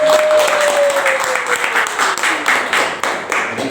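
A group at an Indonesian training session applauds, a dense burst of many hands clapping that stays strong and then tapers slightly, with a faint tone sliding down beneath it.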